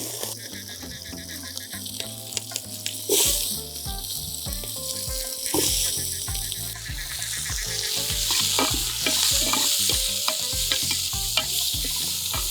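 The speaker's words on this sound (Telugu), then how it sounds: "కొద్దిగా మంచిగా ఫ్రై అయిన తర్వాత ఆనియన్ టమాటా పచ్చిమిర్చి ఇవన్నీ వేస్తాను" Onion, green chili and curry leaves frying in oil in a pan for an outdoor Nellore fish curry, a steady loud sizzle with occasional stirring clatter, close and without talk.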